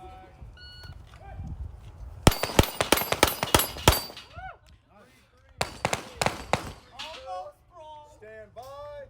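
Rifle shots at an outdoor shooting range ring out in two loud rapid bursts of sharp cracks with echoing tails, separated by a pause, while people talk briefly in between.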